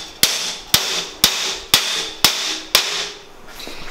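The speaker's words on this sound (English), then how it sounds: "You just get a hammer and..." A hammer strikes the poorly welded metal parts of a pit bike shipping crate, six sharp, ringing clanks at an even half-second pace, loud and close with no talk.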